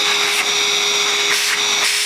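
A vacuum cleaner runs at 280 volts supplied through an antique variac, giving a loud, steady, close whine and rush with slight dips in pitch, and no voices over it.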